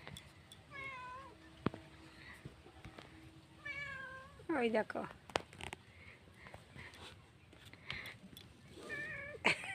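A domestic cat at a home on Rakhi Purnima day gives several clear, drawn-out meows at intervals over quiet background sound, with a brief spoken remark between the calls.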